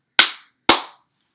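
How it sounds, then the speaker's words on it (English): Two sharp hand claps sound close and loud, evenly spaced about half a second apart, clapping out the syllables of a two-syllable word in a classroom, with nothing else heard around them. "A two syllable word would have two claps."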